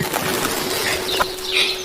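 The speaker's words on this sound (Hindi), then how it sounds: "देखिए, आपने चिड़ियों को जगा दिया इतनी रात में" Birds startled awake at night in a forest burst into a loud, rushing flutter of flapping wings that fills the whole brief moment, with no voices.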